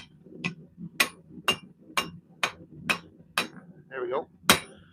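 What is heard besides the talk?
blacksmith hammering metal to a point with forging hammer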